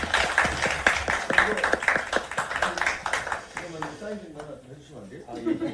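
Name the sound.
audience applause welcoming speakers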